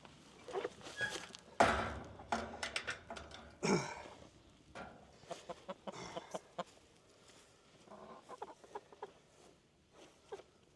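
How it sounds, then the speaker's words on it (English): Scattered hen clucks and short squawks from several chickens in a coop, with rustling and light scuffling in between, fairly close and uneven in rhythm. "I'm gonna let y'all watch these chickens and get an idea for size reference"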